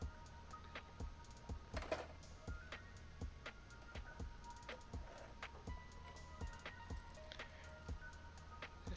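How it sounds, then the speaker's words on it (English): Scissors snipping through tape on a two-halves plastic blister package holding a prize figure, producing faint, close, irregular ticks and clicks spread across the whole stretch, with no talking. "I'm using scissors here to just cut up the tape"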